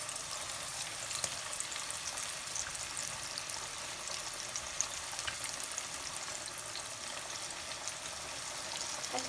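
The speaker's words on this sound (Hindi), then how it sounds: "अब इसमें हम फ़िश डाल देंगे 1 बाय 1 करके।" Pieces of fish fry in hot oil in a kadhai, a dense, steady sizzle and crackle with scattered sharp pops throughout, close and continuous.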